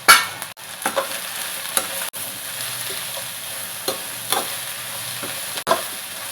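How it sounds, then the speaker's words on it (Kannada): Finely chopped mushrooms frying with softened onion in a pan for mushroom manchurian: a steady soft sizzle with repeated scraping and clinking of a spatula as the mix is stirred, close and without voices. "ಇವಾಗ ಇದಕ್ಕೆ ನಾನು ಸಣ್ಣಗೆ ಹೆಚ್ಚಿಟ್ಕೊಂಡಿರುವಂಥ ಮಶ್ರೂಮ್ನ ಹಾಕ್ಕೊಂಡಿದ್ದೀನಿ."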